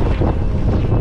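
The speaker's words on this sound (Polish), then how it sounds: "tak wieje, że powiem wam, że drzwi nie mogę otworzyć" Strong wind gusting at El Cabrón on Gran Canaria, a loud steady roar buffeting the microphone with low rumbling throughout and no voices.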